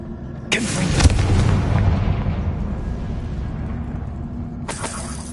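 A Confringo blasting spell goes off in Hogwarts Legacy with a sharp burst followed by a deep rumbling boom that slowly fades, and a second blast erupts near the end.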